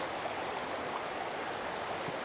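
A shallow outdoor stream tapped for an off-grid DIY water supply flows in a steady, even broadband rush, close and unbroken throughout with no voices.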